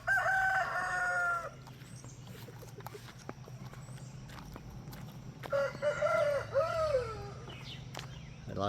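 Roosters crow loudly near the start and again later, with hens clucking in between, as chickens settle into their new outdoor lot on a small farm during a rainy spell.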